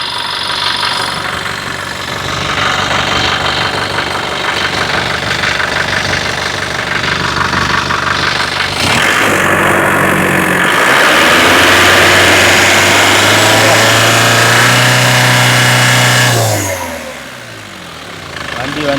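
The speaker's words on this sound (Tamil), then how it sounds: "வண்டி இன்ஜின் ஸ்டார்ட் பண்ணி பாருங்கள் எப்படி பாருங்கள்." A 2008 Chevrolet Tavera engine runs close by, idling roughly, then revving up and down in several rising pulls before settling, with people talking over it.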